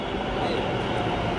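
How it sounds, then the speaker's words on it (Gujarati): A metro train pulls into a station in Ahmedabad, giving a steady, fairly close rumble and rushing noise that fills the short moment without pause. "મેટ્રો આવી ગઈ છે"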